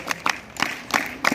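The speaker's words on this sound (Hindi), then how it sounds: "बच्चों, इस बच्चे के लिए भी आप जोरदार तालियां बजाएंगे" At a scout campfire camp, a group of children performs a scout clap: five sharp, evenly spaced bursts of clapping in a quick, steady rhythm, close and fairly loud.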